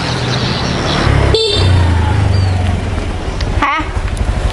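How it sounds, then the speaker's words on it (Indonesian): A motorcycle horn honks loudly and close amid road traffic, with a couple of sharp toots over a steady engine and street rumble. "Klakson sepeda motor aku kurang kenceng."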